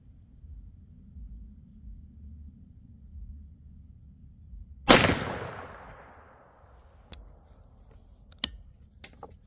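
A single loud gunshot from a Rossi Tuffy .45 Colt/.410 single-shot shotgun cracks sharply outdoors and trails off in a long decaying echo, followed by a few faint clicks and taps.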